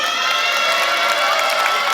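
An audience at a neighbourhood festival to save Songjeong Middle School breaks into applause and cheering, a dense, continuous wash of clapping and crowd noise, loud and unbroken throughout.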